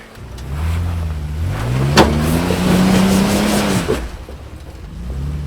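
An off-road vehicle crawls over a rocky Moab trail, its engine droning steadily and rising in pitch as it climbs, loud and close throughout, with a sharp knock partway through as it drops back to idle.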